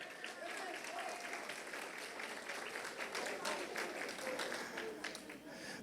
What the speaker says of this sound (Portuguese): Vamos dar um aplauso bem forte para a irmã Vera?